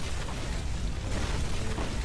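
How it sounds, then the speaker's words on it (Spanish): Explosions and gunfire in the Free Fire battle-royale game make a dense, loud wash of booms and bursts that pound without a break for a couple of seconds, with no talking. "Escucho balazos, escucho explosiones, escucho de todo"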